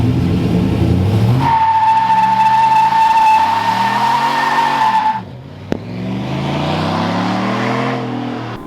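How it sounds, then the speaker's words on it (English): A brand-new truck doing a burnout, its tires letting out a long, loud, steady squeal over a revving engine that cuts off abruptly, followed by a sharp knock and a rumbling idle. "You don't be doing burnouts here."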